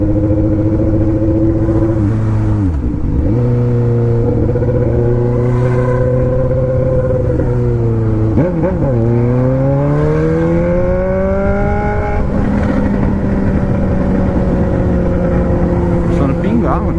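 A four-cylinder car engine revs up and down several times, loud and close, with steady rising and falling pitch sweeps over a constant idle drone. People talk faintly under it.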